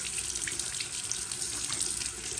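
Running tap water pours steadily over a trumpet mouthpiece being washed with a drop of soap, a close, even rush of water with no pauses.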